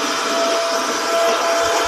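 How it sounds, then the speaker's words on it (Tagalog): A vacuum cleaner works over a car's carpet, a loud, continuous whooshing whine that stays close and steady throughout, with no talking. "we are using a vacuum in our car, in our carpet of our car"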